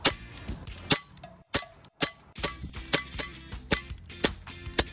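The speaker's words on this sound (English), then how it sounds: "Here, you want to shoot a couple more times?" Blowback airsoft pistol fired repeatedly at a target, about a dozen sharp snapping shots with metallic clacks from the slide, close and fairly rapid with uneven gaps.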